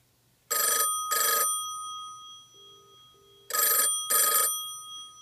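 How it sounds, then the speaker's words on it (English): A replica American telephone fitted with a Western Electric bell rings in two double bursts, loud, close and bright, with a brief soft mechanical click between them and no voices. "I thought you might want to hear what the sound of the new bell is like"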